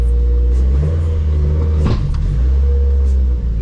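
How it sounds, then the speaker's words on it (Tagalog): A Subaru WRX engine drones steadily up close, a heavy low rumble with a scraping, grinding tone from a stuck brake running through it as the car moves. "That's the brake na nag-stuck."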